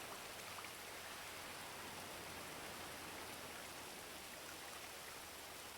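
Steady rain falls in GTA V on a NoPixel roleplay server, a continuous even hiss of drops on surfaces, loud and unbroken throughout with no talking.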